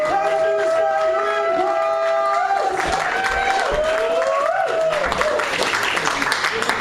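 Audience at a comedy tribute gig applauding and cheering a comedian as he comes on, sustained clapping with a voice speaking over it.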